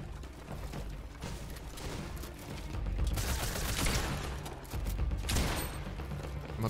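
Pump shotgun blasts in the battle game Fortnite, a dense run of heavy bangs and booms with mechanical clatter, loudest around the middle, with no talking.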